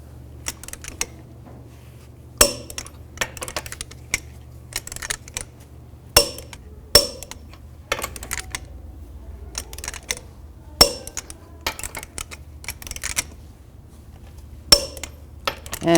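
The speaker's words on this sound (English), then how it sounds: "Now I'm going to torque the lug nuts to 140 foot-pounds in a cross pattern to tighten the wheel down evenly." Sharp metallic clicks and clinks ring out at irregular intervals, fairly close and isolated against near silence, as a torque wrench tightens lug nuts on a Chevrolet Equinox wheel during rear brake work.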